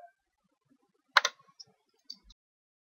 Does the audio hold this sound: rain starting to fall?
no